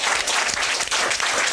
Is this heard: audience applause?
yes